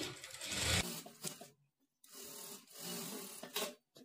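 A sewing machine top-stitches the fabric edge of a work blouse with two close bursts of whirring stitching, separated by a brief stop.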